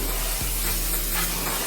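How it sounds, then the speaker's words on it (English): Pressurized water spraying over a car engine bay: a close, steady, continuous hiss with a low motor hum underneath that holds throughout, with no talking. "you just want to spray everything"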